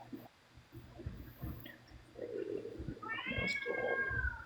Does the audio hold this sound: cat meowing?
yes